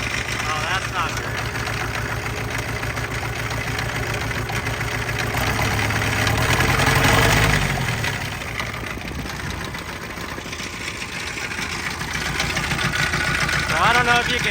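An auction-bought diesel engine runs with loud rattling and knocking, a steady mechanical clatter throughout with a brief swell in the middle, while people talk over it.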